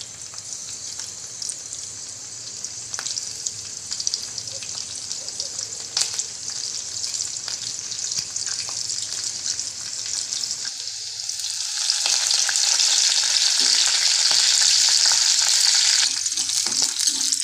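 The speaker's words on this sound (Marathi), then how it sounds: "लसूण आणि कढीपत्ता पहिले फ्राय करून घ्यायचे" Garlic and curry leaves frying in a pan for a Malvani surmai fish curry, a steady close hiss that swells into a louder, brighter sizzle partway through, with no voices.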